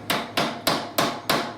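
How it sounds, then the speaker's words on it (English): A hard hammer taps toothed caster sleeves into the bottom of a wooden furniture leg: five sharp, evenly spaced strikes in a steady rhythm, close and crisp, with nothing else heard. "tap them so that the teeth grip the wood"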